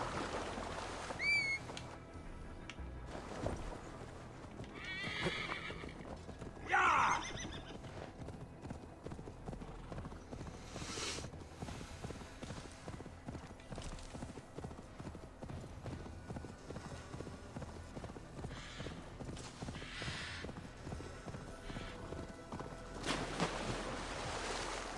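Horse in Assassin's Creed Valhalla, steady clip-clop of hooves trotting with a few whinnies early on, over faint water and surf ambience.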